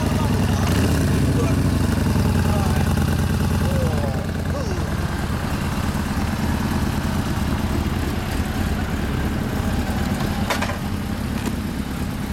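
A 2014 Yamaha Bolt 950cc motorcycle fitted with clip-on bars runs close by, a continuous low rumble that holds steady throughout with a faint whine riding on top.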